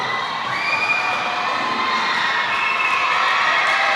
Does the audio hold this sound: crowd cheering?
yes